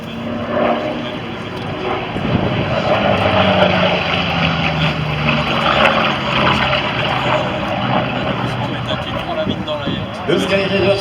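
A Douglas Skyraider carrier-borne propeller aircraft roars steadily overhead at the Châteauroux aerobatics world championship air show in 2019, a loud continuous engine drone beneath ongoing commentary.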